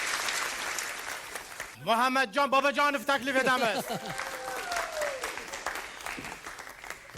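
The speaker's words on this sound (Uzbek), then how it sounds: "Surxon jamoasini olqishlaymiz." Studio audience at a youth TV game show clapping for the Surxon team: dense, steady applause fills the whole stretch, with a loud amplified host's voice speaking over it midway before the clapping carries on beneath.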